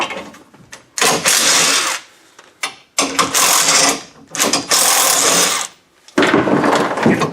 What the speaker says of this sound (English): if I take out these bolts over here, just going to take out one side for now